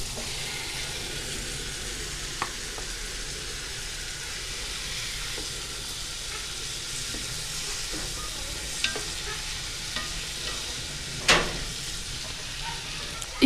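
Chicken for biryani fries in a pan with a steady, gentle sizzle and occasional scraping stirs, a quiet close hiss running throughout with a few sharper clinks.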